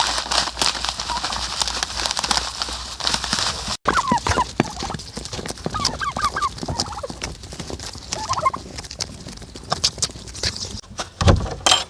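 Hens being fed a mix with shells and mineral supplements cluck and call in short bursts close by, amid scratching, pecking and small knocks.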